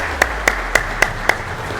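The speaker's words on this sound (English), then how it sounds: "please join me in giving all the recipients a round of applause" At a graduation ceremony, one or a few people clap five evenly spaced times, a close, steady rhythm over quiet room tone.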